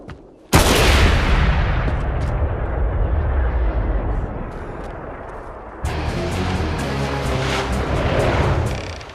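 Naval gunfire from HMS Glasgow during a naval battle: a sudden loud blast followed by a long rumbling roar, then a second heavy burst of firing that carries on with crackling reports.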